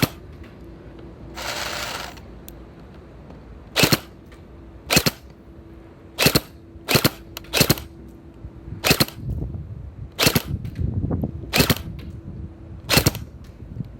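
A WELL M401 toy gel blaster fires about ten sharp, snappy semi-automatic shots at uneven intervals. A faint motor whir runs underneath, and an early burst of hiss comes before the first shot.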